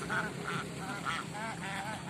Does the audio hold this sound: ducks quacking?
yes